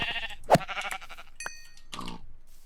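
A Minecraft sheep gives one sharp, close bleat, followed by fainter game noises and a brief chime-like tone, with no talk.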